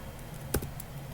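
Someone types a command on a computer keyboard, giving a quiet cluster of two or three soft key taps close together against a low, steady background hum.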